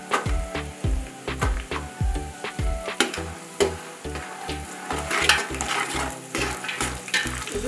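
Dry coconut frying in a pan for Uttara Karnataka style poha chivda, a steady sizzle under repeated rhythmic knocks and scrapes of a spoon stirring, close and without talk.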